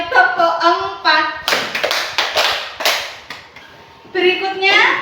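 A classroom group claps a counted rhythmic pattern, delivering sharp, close bursts of hand claps between stretches where a voice speaks.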